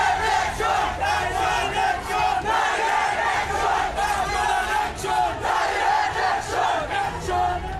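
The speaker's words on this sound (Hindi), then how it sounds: "रात के स्याह अंधेरे में हिंदुओं के खिलाफ नफरती नारेबाजी करती उन्मादी भीड़ दिख रही है" A frenzied crowd gathered at night in Doyara Bazar, Sunamganj, Bangladesh, chants hateful slogans in loud, rhythmic waves of massed shouting that surge and repeat throughout, dense and continuous.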